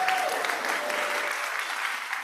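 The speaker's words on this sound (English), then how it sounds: "Can we give them a round of applause?" A church congregation applauds steadily during a Sunday service, a dense, even wash of clapping that holds at one level throughout, with a faint voice briefly audible beneath it.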